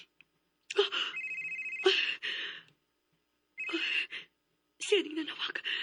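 A telephone rings in a Cebuano radio drama, sounding as a few separate bursts of electronic trilling with silent gaps between them, close and clear.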